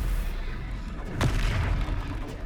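Stupefy spell impact in the Hogwarts Legacy video game, a single sharp boom over a busy, rumbling battle background.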